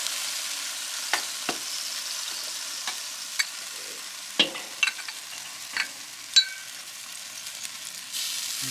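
Pork belly char siu sizzling on a grill, a steady soft hiss of fat cooking with occasional sharp pops and crackles, no voices.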